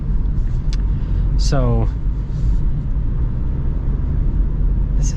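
Steady low road rumble inside a 2025 Subaru Forester Limited while it drives, continuous and close, with a brief spoken word partway through.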